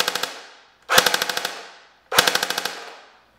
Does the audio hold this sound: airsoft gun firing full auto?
yes